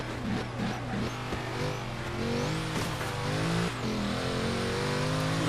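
Mercedes racing in Forza Horizon 3 on a rainforest sprint course, its engine revving hard and shifting through rising and falling pitch sweeps, loud and continuous with game music or effects layered underneath.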